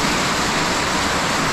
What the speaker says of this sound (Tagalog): Umuhos na naman yung malakas na ulan.